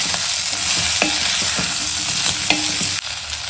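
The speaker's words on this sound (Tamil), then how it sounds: "இதெல்லாம் நல்லா வதக்கி விட்டுக்கலாம்" Pumpkin pieces and tomato sautéing in a pan for a Tamil tamarind gravy, a loud steady sizzle with repeated spoon-stirring scrapes and taps close by.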